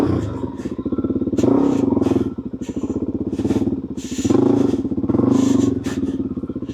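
Suzuki DRZ400 dual-sport motorcycle ridden up a rough mountain track, its single-cylinder engine thumping close by and rising and falling in revs, with clattering from the rough ground.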